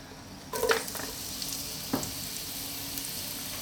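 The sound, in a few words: star anise, lemongrass and ginger sizzling in a pan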